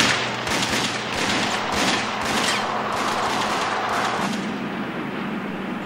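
A dense, continuous burst of gunfire from a police shootout at a bar, shots rattling rapidly and loudly over several seconds without pause.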